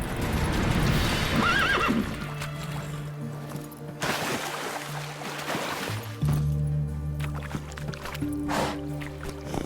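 A horse neighs loudly and close, with hoofbeats clip-clopping along under the calls, followed by further whinnies and steady movement noise.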